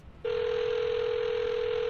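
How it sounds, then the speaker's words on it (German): A steady telephone dial tone starts abruptly after a brief pause and holds loud and unbroken as a call is placed in the adventure game Memento Mori 2, with no talking. "Ich werde bei Argo anrufen und mich nach diesem Jacek erkundigen."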